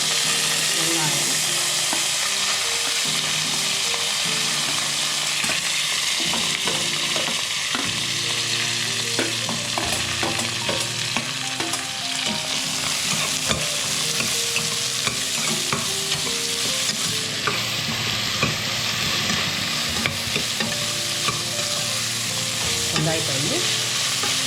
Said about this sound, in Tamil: வெங்காயத்தை வந்து நல்லா வதக்கிடணும்.